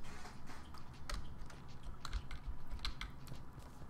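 Rapid, irregular clicking of a computer mouse and keys during a Terraria game, close and fairly quiet, with a steady low background rumble and no talking.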